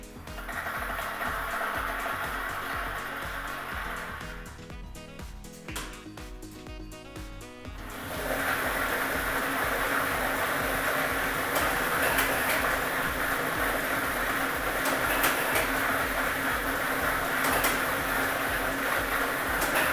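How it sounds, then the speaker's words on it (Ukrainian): Lottery ball drawing machine (set A, ball set 1) at a Ukrainian state lottery draw, running with a continuous dense whirring rattle of tumbling balls, briefly shifting pattern before settling into a steady loud churn. "ми вмикаємо лототрон"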